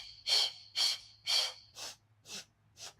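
Sharp, forceful breaths are pushed out through the nose or mouth in an abs workout, six evenly spaced puffs about half a second apart, close and clear, with no talking.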